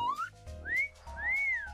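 Three rising, sliding whistle tones from a Hacksaw online slot game ring out clearly and alone, each one longer and more arched than the one before.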